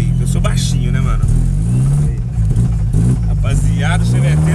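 A Chevrolet Chevette's engine runs loud and steady throughout, its low droning hum holding close and continuous while someone talks over it.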